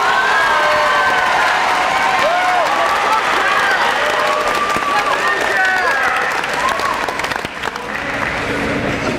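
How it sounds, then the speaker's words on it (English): A middle school promotion ceremony audience applauds and cheers for its grand marshals: a dense, steady wash of clapping with whistles and shouts rising over it, sustained throughout and tapering slightly near the end. "Let's give them a round of applause."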